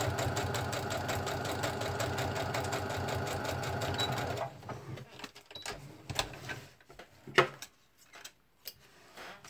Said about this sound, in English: I love this sewing machine though.